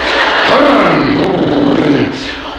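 A voice imitates a revving go-kart engine in first gear: a loud, close, growling roar that swells and then eases off over a couple of seconds.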